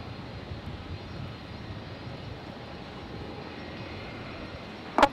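A jet airliner's engines roar at Brisbane International Airport, a steady, fairly distant broadband rumble that holds evenly throughout, ending with a brief sharp click.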